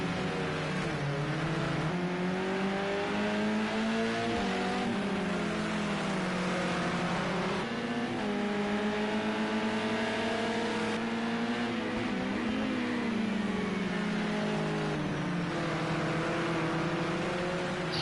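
Modern touring race cars, a BMW among them, lap Oulton Park circuit with a steady, loud engine drone whose pitch rises and falls through gear changes, several cars blending together without pause.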